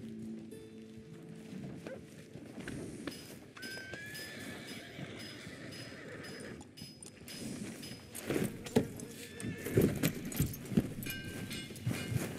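Horse hooves clip-clop through Red Dead Redemption 2 gameplay, with a neigh and a dog barking amid busy ambient town noise, the hoofbeats growing louder and more distinct toward the end.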